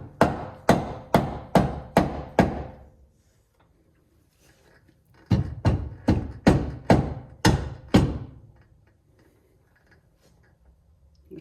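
Hammer blows on a metal part while fitting an HCR long-travel suspension to a 2021 Polaris Ranger, struck in two quick runs of about six sharp, ringing hits each, loud and close, separated by a quiet pause.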